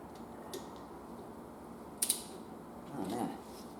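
A torque wrench tightens bolts on the axle of a 2007 Aston Martin V8 Vantage, giving faint mechanical ratcheting and a sharp double click, then a short creaking scrape, in a quiet garage.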